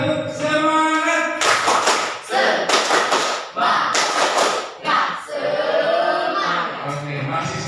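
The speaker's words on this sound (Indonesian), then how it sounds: "Tepuk semangat." Classroom group doing a rhythmic cheer clap in a cooperative-learning lesson: several bursts of loud, close, synchronized clapping in a patterned beat, separated by short pauses and mixed with voices.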